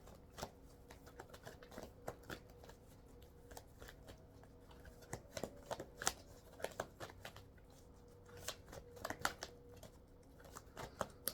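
Affirmation cards being shuffled by hand, with soft crisp flicks and riffles arriving in irregular bursts, quiet and close, no voices.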